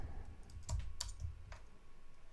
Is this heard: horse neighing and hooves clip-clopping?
no